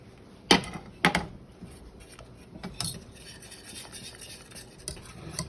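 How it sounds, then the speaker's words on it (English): Peanut butter being whisked into melted chocolate in a bowl, a couple of sharp clinks against the side followed by softer irregular scraping and tapping strokes, close and fairly quiet. "Whisk this in."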